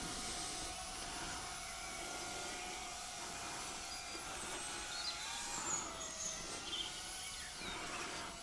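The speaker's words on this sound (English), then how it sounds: "So you can see it's not an overly fast drone." A small S156 drone flies outdoors in a gentle breeze, giving a faint, steady high-pitched motor whine with slight wavering, heard alone at a distance.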